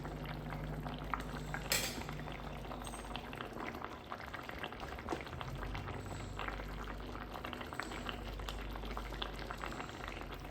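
Curry gravy simmering in a covered pot: a steady, close bubbling boil with soft popping and gurgling throughout, no voices.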